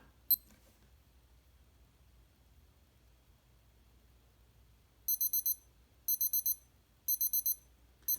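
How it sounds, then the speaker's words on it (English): A high-pitched countdown timer alarm from a SKMEI Model 1628 digital watch beeps in quick bursts of four, repeating about once a second after a single early click, over faint background hiss. "the timer will go off for 10 seconds"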